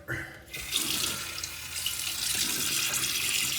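Tap water runs into a sink while a man wets his face before shaving. A close, steady rush of water starts after a brief pause.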